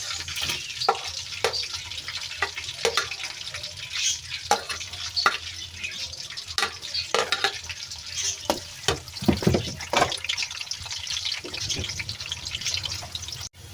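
A steady sizzle of onion frying in a pan, punctuated by frequent clicks and taps of a spoon stirring, with no talking.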